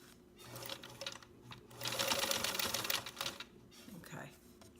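A domestic sewing machine runs a short back-tacking burst of stitches to reinforce a spot where the thread was lost, its motor whirring steadily for a couple of seconds between quieter pauses.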